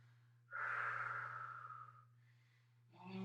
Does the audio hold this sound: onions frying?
no